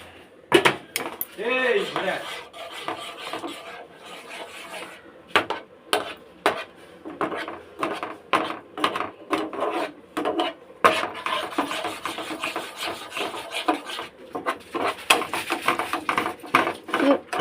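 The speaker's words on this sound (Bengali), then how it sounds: "ডিমটা দিয়ে পুরো এটাকে নেড়ে নিচ্ছে।" A thick baby-food mixture with egg is stirred in a pot, giving irregular scraping, rubbing and clinking of a spoon against metal. Quiet speech is heard in between.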